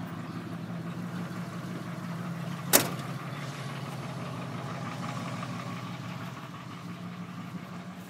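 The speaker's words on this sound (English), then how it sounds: "The reason why this one's so quiet now is it's got the full exhaust system and the Flowmaster muffler off of that Chevrolet" A 1980 Ford F100 pickup idles steadily with a full exhaust system and Flowmaster muffler, a low, even rumble that stays quiet throughout, broken once by a single sharp click or knock partway through.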